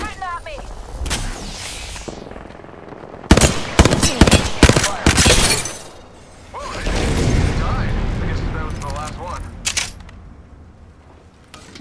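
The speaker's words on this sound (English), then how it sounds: "They're shooting at me" Bursts of enemy gunfire in the battle game Apex Legends, with rapid clustered shots in the middle, then rumbling combat noise and faint voice chatter.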